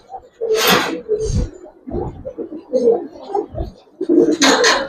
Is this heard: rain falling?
no